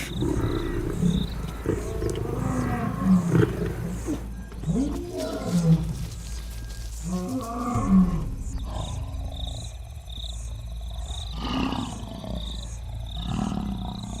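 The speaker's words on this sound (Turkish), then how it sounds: "8 kilometre boyunca yankılanan kükremeleriyle görülmeseler de varlıkları duyulabilmektedir." Wild lions roar in a documentary setting, a deep, drawn-out series of loud grunting roars that rise and fall. Several calls overlap across the clip, with no talk over them.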